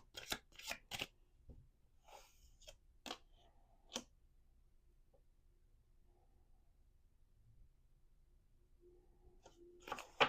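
Playing cards riffle and snap in quick crisp bursts at the start, a few more shuffles follow, then a pause before another riffle at the end.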